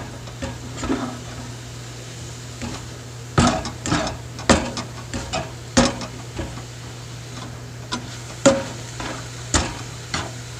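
Turkey pieces are stir-fried in a pan with little oil, with irregular sharp clacks and scrapes of a utensil against the pan over a faint sizzle and steady low hum.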